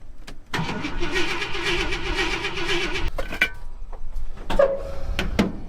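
A dry-carbureted Ford F100, abandoned and left sitting for years, cranks over steadily for a few seconds while the gas pedal is pumped, then stops and gives a couple of short, sharp mechanical clicks and knocks.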